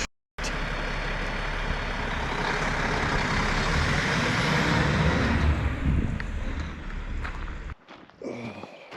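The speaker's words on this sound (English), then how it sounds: "That's an awesome truck." A very dirty Western Star truck rumbles loud and close with a deep, steady engine roar that holds for most of the stretch, then cuts off into quieter scattered clunks near the end.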